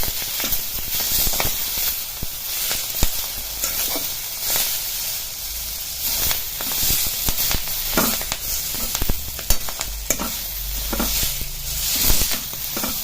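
Fenugreek leaves fry in hot tempering oil, a steady loud sizzle and hiss broken by scraping stirs of a spoon, with no talking.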